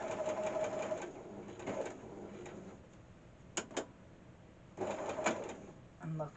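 A sewing machine stitches a drawstring bag, running in short rapid bursts with pauses between them and sharp mechanical ticks, close and moderately loud, while a person talks quietly.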